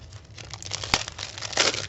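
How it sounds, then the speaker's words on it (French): Paper is sliced on a paper trimmer while making a scrapbook pocket card: close, crinkly rustling of the sheet with a sharp snap partway through and a longer rasping cut near the end, without talk. "on va découper avec le massicot"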